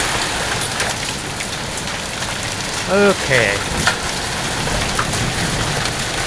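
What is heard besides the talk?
really heavy rain after hailstorm, pouring off roof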